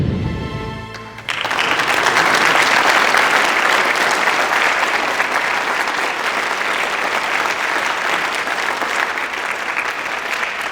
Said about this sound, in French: Alors vous avez raison d'applaudir